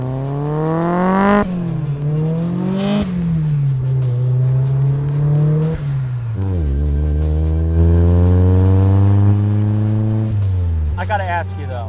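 A 1995 Nissan 240SX car driving and revving hard through the gears, the engine pitch climbing, dropping sharply at each shift, then climbing again, loud and close throughout.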